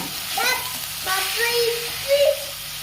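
Tomatoes sautéed and stirred in a pan for pudhina (mint) chutney: a soft, steady sizzle with scraping stirs, while a voice talks briefly over the cooking.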